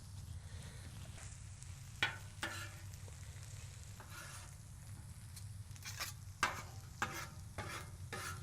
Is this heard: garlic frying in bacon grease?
yes